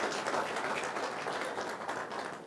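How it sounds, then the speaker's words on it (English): Applause from the audience at a business pitch lunch event, a soft steady patter of clapping that continues evenly for a couple of seconds, somewhat distant. "So round of applause for Jason Primo."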